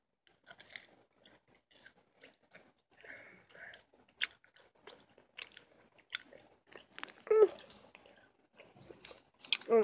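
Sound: chewing sour gum

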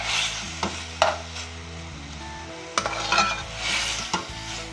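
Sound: frying pita bread in oil for pizza

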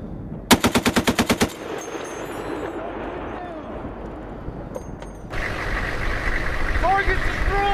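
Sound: 50 caliber machine gun live fire from Humvee turret

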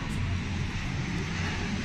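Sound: airplane flying over

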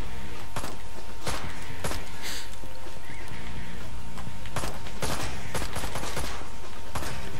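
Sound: gunfire in video game Ride to Hell: Retribution

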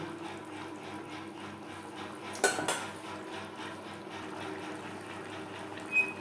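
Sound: mixing rui fish with gravy in a pan

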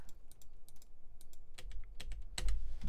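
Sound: computer keyboard key press and mouse click

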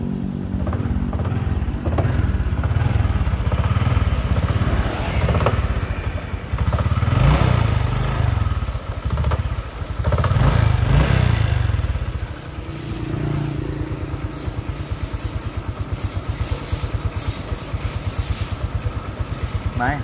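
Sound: motorcycle engine idling

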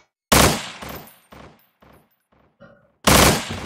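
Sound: gunshots in the video game Estranged: Act I

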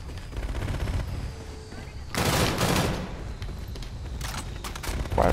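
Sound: gunfire in video game Call of Duty Infinite Warfare

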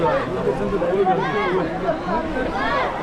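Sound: crowded temple queue, crowd chatter at Bhimashankar

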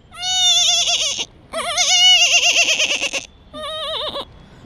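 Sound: man imitating a baby goat's bleat

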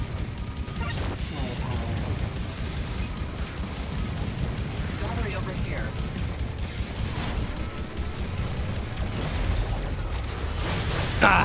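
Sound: rockets firing and exploding in a video game

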